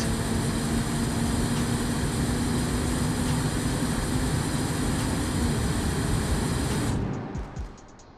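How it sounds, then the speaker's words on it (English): A turbocharged front-wheel-drive sport hatchback in BeamNG.Drive runs flat out near 210 km/h under heavy boost, giving a loud, steady engine and wind roar that holds for about seven seconds, then quickly fades away. "This thing is pushing so much boost into the engine."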